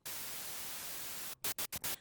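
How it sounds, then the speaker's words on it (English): White noise from the Babylon synth's noise oscillator: a steady, loud, full-band hiss held for over a second, then chopped into four short bursts with brief silences between. "which is only white noise"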